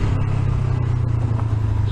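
A Honda CB500X motorcycle engine held between 4,500 and 6,000 RPM while riding on a road with loose stones: a steady, loud, close drone with wind rush, unbroken throughout.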